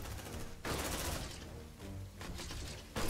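Sustained automatic turret fire from the sci-fi game Aliens: Dark Descent, heavy rattling bursts that stop briefly and restart several times, fairly loud with no talk over it.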